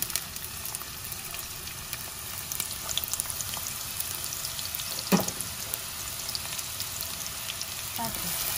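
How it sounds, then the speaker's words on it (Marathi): Chopped onions for Konkani misal sizzle in a hot pan, a constant close crackling fry with a brief clatter of stirring midway. "आता कायल गरम जाल्ले आहा आमचे, ते घालया आमी कांदो"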